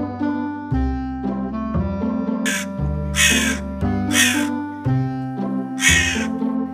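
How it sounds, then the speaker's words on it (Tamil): Loud, harsh crow caws repeat several times over a steady low tonal drone, close and prominent. "காக்கா ரொம்ப நேரமா கத்திட்டு இருக்கு."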